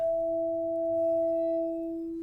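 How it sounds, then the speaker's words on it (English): Steady pure tone of a bowed cymbal blended with a sine wave, two clean sustained pitches holding evenly and alone throughout, with faint low rumble beneath. "Just like enough of the bowed cymbal to actually hear the organicness of it"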